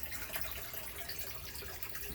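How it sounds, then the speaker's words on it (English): Spring water runs steadily into a 1,000-gallon concrete tank with a continuous hissing, splashing rush, even in level and with no voices. "There's the water running in."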